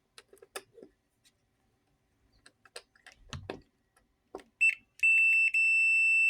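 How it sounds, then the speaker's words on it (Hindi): W1209 digital thermostat buzzer sounding a steady high electronic beep, loud and continuous after a few scattered ticks and handling clicks, with no talk. "ये ना बजर चल रहा है क्योंकि वो रेड एलईडी है।"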